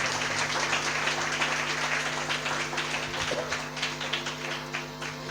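Congregation at a Calvary church service in Vikarabad claps steadily and densely, the applause slowly thinning toward the end with a faint hum beneath.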